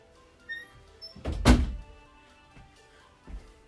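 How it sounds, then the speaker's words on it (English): A single loud thunk of someone bumping into an indoor door, close by, with a few softer knocks and rattles before and after it. "Maybe she bumped into the door as she was walking."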